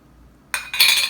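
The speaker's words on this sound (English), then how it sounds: "we're just going to mix this until everything is well combined" Momo dumpling filling of spices, salt and vegetable oil being mixed in a mixing bowl, a sudden bright scrape and clink of a utensil against the bowl after a moment of silence, close and brief.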